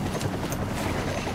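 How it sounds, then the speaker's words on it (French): A helicopter arrives in League of Legends with a steady rotor throb, loud and constant through the brief stretch. "en fait c'est l'hélicoptère qui vient le chercher et tout"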